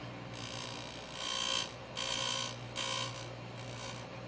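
A stone grinds a chamfer on an engine valve during cylinder head service, a steady whirring grind that swells into three bright, rasping bursts as the rotating valve meets the stone, close and fairly loud.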